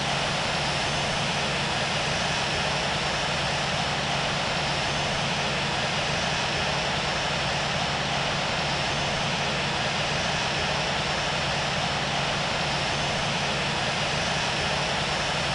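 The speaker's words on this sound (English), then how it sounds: "Cleared for takeoff, runway 25 left" Boeing 777-200LR jet engines spooling up for takeoff from runway 25 left at Los Angeles in the Infinite Flight simulator game, Emirates livery: a loud, steady, broadband roar that holds constant throughout, with no voices.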